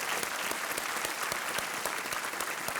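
Studio audience on a Hindi TV quiz show applauds warmly, dense steady clapping sustained throughout with no voices over it.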